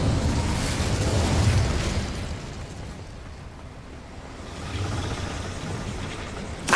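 Fire spell cast in Hogwarts Legacy, heard as a broad rushing, roaring burst that swells, eases into a low rumble and then flares again toward the end.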